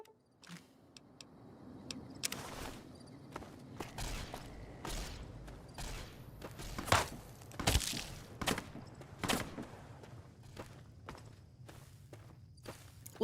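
Footsteps walk steadily through a video-game firefight, sharp gunshot cracks scattered over a low ambient drone, with the steps fairly close and the shots popping in at irregular intervals.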